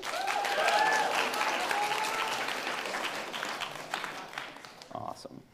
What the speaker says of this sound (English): How about clap it up for Maura?